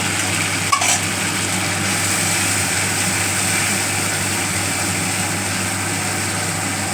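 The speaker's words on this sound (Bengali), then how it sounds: "ভালো করে নাড়তে হবে একটু গরম জল দিয়ে দিয়ে এবার একটু নাড়ব" Dahi potol curry is stirred in a pan after a splash of hot water goes in, giving a steady, close-up sizzle with a soft scraping texture and one brief click near the start.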